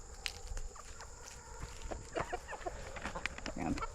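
Guinea fowl and chickens scratch and cluck close by around a coop, a scatter of short calls and scuffling steps over a quiet background.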